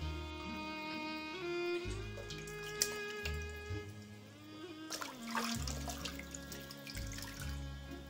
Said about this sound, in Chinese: 然后把五花肉捞出来，放入清水盆中清洗干净。